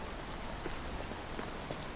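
Steady rain falls in a dark alleyway in Lies of P, a dense, even hiss of drops with no talking over it.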